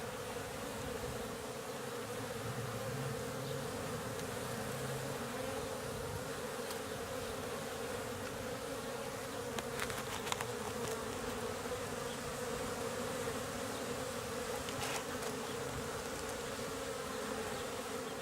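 Honeybees buzz steadily at a beehive in late March, a dense continuous hum of many insects close by, with a few brief louder passes.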